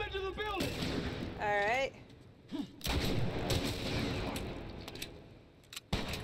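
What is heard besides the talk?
gunfire in the video game The Last of Us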